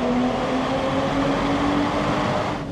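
2025 BMW Z4 M40i with a manual gearbox, its engine pulling hard through a decreasing-radius corner, a loud, steady droning tone with a rising pitch from inside the cabin, no talking.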